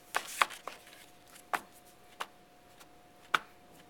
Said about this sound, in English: So what I'm going to do is I'm going to ink this stamp up